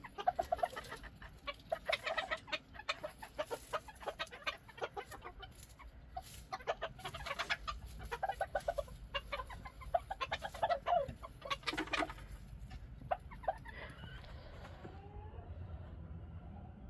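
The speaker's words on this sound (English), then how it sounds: "I love listening to my birds talk." Backyard chickens clucking and chattering in a straw-filled coop during Winter Storm Fern in New Mexico, a steady run of soft clucks and murmurs close by with no talking.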